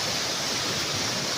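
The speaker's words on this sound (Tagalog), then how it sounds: "nakikita natin yung ragasa ng malakas na tubig dito sa ginagawa nila na paliguan" Strong floodwater rushes loudly beneath a bridge near a bathing spot, a dense, constant roar that fills the brief moment with no voices.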